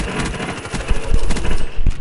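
Rapid gunfire from a shooter video game rattles in dense, continuous bursts for about two seconds, growing louder toward the end with several heavier booms.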